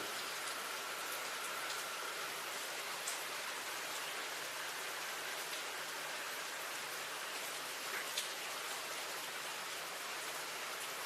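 Steady rain falling outdoors during a thunderstorm, a dense, continuous hiss of drops close by, with no thunder standing out and no talking.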